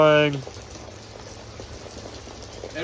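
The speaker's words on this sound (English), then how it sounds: "It's raining!" Rain falling outdoors at a small-town property where a concrete driveway is being poured, a steady soft patter after a brief voice at the start.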